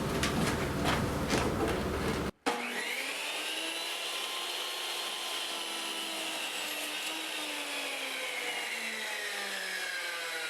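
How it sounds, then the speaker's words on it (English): Compound miter saw cutting a compound miter in mahogany: a loud, steady high whine of the spinning blade, a brief cutoff, then a continuous sustained cut with the motor tone slowly dropping as the blade works through the wood. "the easiest way to cut these compound miters is on a compound miter saw"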